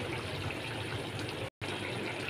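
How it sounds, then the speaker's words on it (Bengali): Water poured from a bowl into a simmering Bengali fish curry of parshe fish with papaya and potato, a steady close gush with a brief dropout near the end. "এবার 1 বাটি জল আমি দিয়ে দেবো।"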